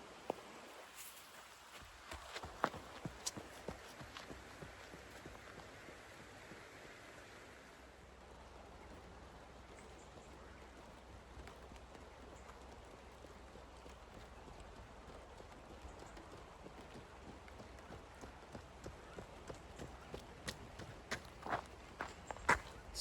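Steady, rhythmic footsteps of someone running outdoors in the rain along the River Spey, continuous and close, with a faint wash of rain and wind underneath, no speech.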